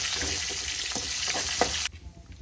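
Steady loud sizzling of curry leaves frying in hot oil, with a few stirring clicks, then the sizzle drops away abruptly near the end.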